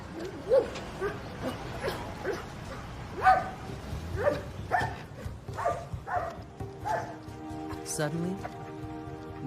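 Several dogs bark and yip in an outdoor pack, sharp barks repeating at irregular intervals, some near and some farther off, with occasional whimpers in between.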